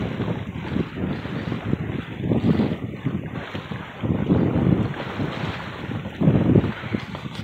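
Steady wind rushing over a 27ft Catalina sailboat at sea in 10–15 knot breeze with 4–6 foot wind waves, continuous buffeting and wave wash with gentle surges, no voices.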